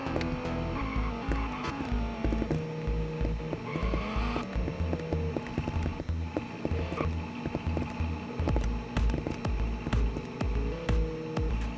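An Audi R8 V10 supercar engine in the Roblox game Horizon revs and shifts during a top speed run, with a steady simulated engine drone stepping through gears alongside clicking mechanical game sounds.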